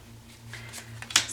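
Tarot cards being shuffled, with soft riffling flutters building to a sharper, brisk snap of cards near the end; close and brief, with no talking.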